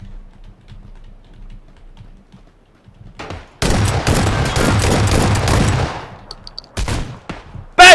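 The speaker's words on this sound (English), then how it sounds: "Shotgun!" Shotgun blasts in the battle-royale game PUBG, heard as a loud, dense burst of firing and impacts that follows a quiet stretch and then trails off, ending with a sharp final crack.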